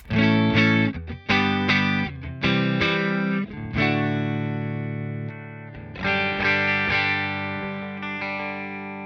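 A clean electric guitar on its neck pickup plays warm, rounded chords and single notes, strummed in bursts and left to ring out, with no voices.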